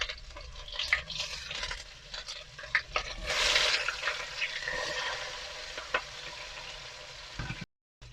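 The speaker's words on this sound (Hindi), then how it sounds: "अभी इसको करेंगे फ्राई ताकि टमाटर गल जाए।" Tomatoes and chilies fry in a pan with a steady close sizzle, broken by stirring scrapes and a louder hissing surge partway through, before the sound cuts off briefly at the end.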